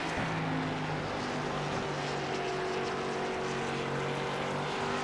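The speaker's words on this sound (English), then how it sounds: "You can hear that engine." A race car engine in a racing video game at the New Hampshire Magic Mile oval, a steady droning hum with sustained tonal whine, continuous and fairly loud without talk.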